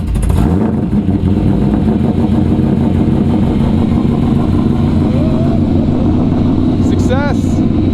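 A cammed C5 Corvette engine runs steadily and loud throughout, a constant low rumble with a brief higher chirp near the end; some background voices mix in.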